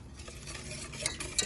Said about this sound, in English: So keep on stirring it